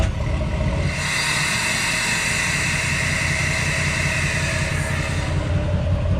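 Truck with a 4-inch exhaust idling, a steady, fairly subdued broadband rumble and hiss holding constant throughout with no breaks.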